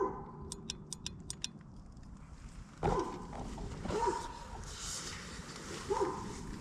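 A dog barks sharply a few times at a distance in a forest at night, with quick ticking clicks early on and faint rustling between barks.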